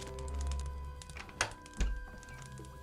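A metal chest being opened in Gothic 3, a dull thunk and clack of the lid and latch over low game ambience, with a couple of sharper knocks partway through and no talk.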